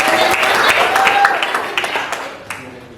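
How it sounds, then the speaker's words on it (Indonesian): Applause from a classroom audience for a presenting student group, a dense crackle of clapping that tapers off, with voices in the room mixed in. "Kelompoknya Zevanya kita beri tepuk tangan untuk kelompok Zevanya"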